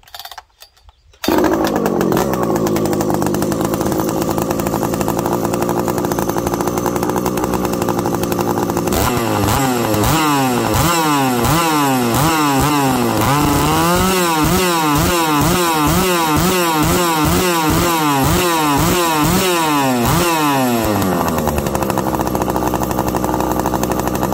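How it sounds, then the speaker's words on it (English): A Husqvarna 288 kit-built chainsaw starts with a loud pull and roars close by on a bench. It holds a high idle, then revs hard again and again in a rapid, rhythmic burst before settling back. "Let's run it again on the bench so you guys can see the oil coming out of it."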